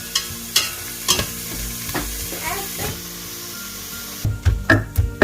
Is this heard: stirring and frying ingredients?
yes